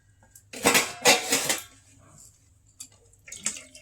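Dishes and cutlery clatter on a plate while rice is served for a lunch of rui fish curry cooked with green tomato and potato, two loud bursts of clinking followed by a few lighter knocks.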